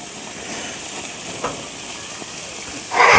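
Chicken thighs and burgers sizzle steadily on a gas grill, a low continuous hiss with a brief sharper flare of sizzle at the end as meat is flipped.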